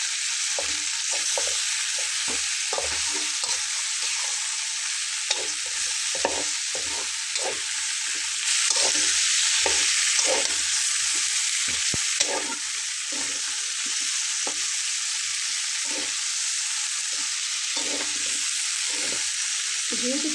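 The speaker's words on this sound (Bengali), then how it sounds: "দিয়ে একটু নাড়াচাড়া করার পরে আমি এখানে এখন বাটা মশলাটা এবং শুটকি মাছ বেটে নেওয়াটা দিয়ে নিচ্ছি" Spice paste and ground dried fish paste fry in a pan with taro, giving a steady close sizzle broken by repeated scraping stirs throughout, with no talking.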